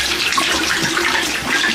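Steady tap water runs loudly and continuously over makeup brushes being rinsed clean of soap in a sink, with no talking.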